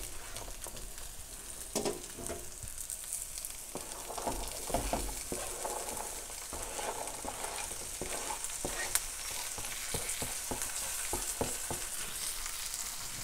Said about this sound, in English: I'm gonna go ahead here and put in our onions.